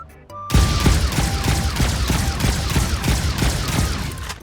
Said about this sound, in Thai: เดี๋ยวเรามาลองยิงกันดูดีกว่านะครับว่าโล่จะแข็งแกร่งขนาดไหนนะครับ